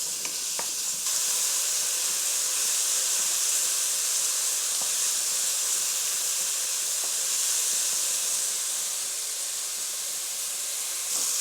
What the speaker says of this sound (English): I'm adding in the onions and the garlic, and I'm going to stir them until they are translucent